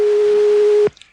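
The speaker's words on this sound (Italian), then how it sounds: "Lo squillo lo sente." A telephone tone sounds on a call, one loud steady electronic tone held for almost a second before cutting off abruptly, followed by faint line clicks.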